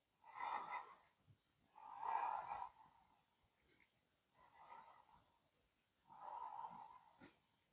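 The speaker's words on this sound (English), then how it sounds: "breathe here for a few deep breaths" Slow, deep breaths during a yoga stretch, heard as about four quiet, close inhale-and-exhale swells separated by near-silence.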